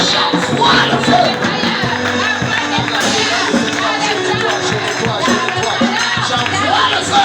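A congregation cheers and acclaims at a deliverance prayer service: a loud, continuous crowd roar of many overlapping voices, with a sharper swell around the middle.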